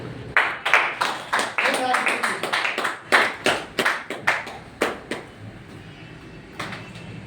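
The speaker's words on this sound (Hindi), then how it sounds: "मैं एक बार जोरदार तालियां चाहूंगा उनके लिए।" Scattered loud claps from a seated audience at a health awareness gathering, arriving as irregular sharp bursts over about seven seconds before thinning out, with faint voices underneath.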